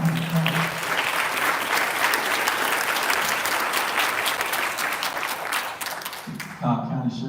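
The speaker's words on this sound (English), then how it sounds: "give them a clap" Crowd applause at a Cobb County Sheriff's Office live event honouring its women staff, loud sustained clapping from many people that tapers off at the end as a voice resumes speaking.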